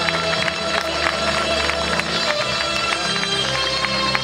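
An audience claps continuously and densely through a crowd-filled event hall, loud and steady, with a murmur of voices and faint talk beneath the applause.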